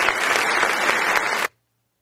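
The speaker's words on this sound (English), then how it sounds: "Let's give the Most High a round of applause." A round of applause on a radio show, steady dense clapping for about a second and a half that cuts off abruptly into silence.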